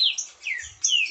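A green-winged saltator (trinca-ferro) gives loud, clear whistled calls nearby, several quick descending notes in a short burst with no voices.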